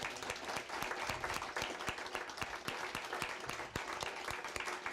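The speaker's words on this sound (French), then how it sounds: "Vous pourrez les applaudir même." Steady applause from an audience at an evening school event, dense continuous clapping holding at an even level for the whole stretch with no voices on top.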